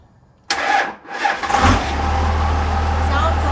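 A compound-turbo 12V Cummins diesel in a Model A dually rat rod cranks and catches with a sudden loud burst, surges, then settles into a deep, steady idle rumble.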